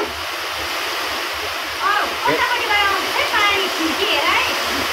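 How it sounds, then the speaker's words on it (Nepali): Rain pours down outdoors during a momo party as the day grows dark, a loud steady rushing roar, with voices talking over it in the second half. "भिडियो गर्नु पनि पानीले डिस्टर्ब गऱ्यो नि त"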